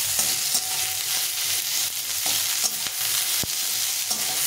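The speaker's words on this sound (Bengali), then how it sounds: "পেঁয়াজটাকে একটু অল্প করে নরম নরম করে ভেজে নেবো।" Onion fries in a pan and softens under a loud, continuous sizzle, with repeated scraping strokes of a spatula at an irregular pace.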